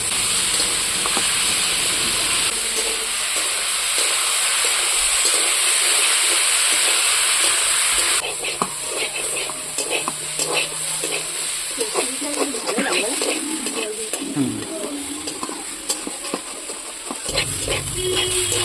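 Potatoes and vegetables sauté in a pan with a continuous hiss and sizzle, followed by scraping and stirring clatter partway through, heard close and fairly loud, with some speech underneath.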